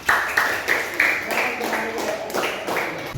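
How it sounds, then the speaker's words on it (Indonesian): A classroom of students claps for group 4 after their presentation, a burst of brisk, uneven hand clapping close by with a voice speaking through part of it. "kita beri tepuk tangan yang meriah untuk kelompok 4"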